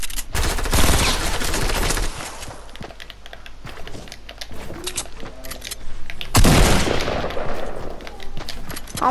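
Rapid bursts of gunfire in a shooting video game, dense crackling volleys at the start and again near the end, with scattered single shots in between.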